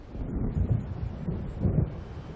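Low, rolling thunder of an approaching storm in the Alan Wake video game, swelling in two heavy rumbles over a steady dark wash, with no voices.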